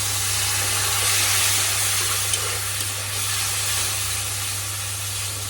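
Water splashed into a pan of spiced potatoes with chili powder and green chilies sets off a loud, steady steam hiss and sizzle that holds evenly throughout, with a low hum beneath and no talking.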